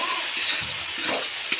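Spices, turmeric and chili powder, with vegetables, fry briskly in a pan, giving a short burst of dense sizzling with soft spatula scrapes.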